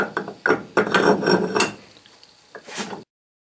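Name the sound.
reassembling a Kurt vise, nut going back in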